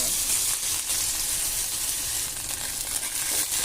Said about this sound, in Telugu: అల్లం ముక్కలు దాని తొక్కంతా తీసేసుకున్న తర్వాత ఇలా చిన్న ముక్కల కింద కట్ చేసుకుని ఇలా వేడయిన తర్వాత ఆయిల్లో వేసుకోవాలి.